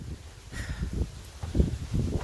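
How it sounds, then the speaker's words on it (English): Wind buffets a microphone outdoors on an evening walk, a low rumbling roar that swells and gusts in uneven bursts across the whole clip, loud and close with no speech over it. "It wasn't this windy earlier. Sorry if it's super loud."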